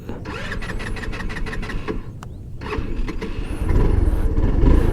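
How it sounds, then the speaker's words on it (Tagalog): A Motorstar Easyride 150N scooter from 2024 starts up for a test ride, its engine catching and settling into a steady mid-pitched idle that grows louder toward the end, with no talking. "Alright, let's have a test drive."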